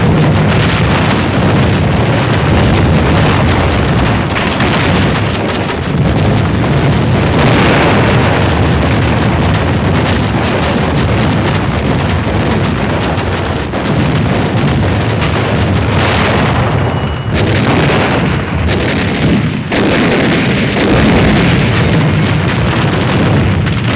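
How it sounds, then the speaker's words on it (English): Heavy naval bombardment as supporting ships fire point-blank on Mount Suribachi, Iwo Jima: a dense, continuous roar of overlapping explosions and booming artillery, loud and sustained throughout with brief dips near the end. "supporting ships deliver point-blank fire"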